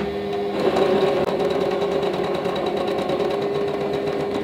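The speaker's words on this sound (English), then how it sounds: "And then we're just going to sew these blocks together." Home sewing machine chain-stitching quilt blocks for a tulip quilt with a regular straight stitch, running steadily and loud at close range with a continuous motor hum and rapid needle rhythm, alone without talk.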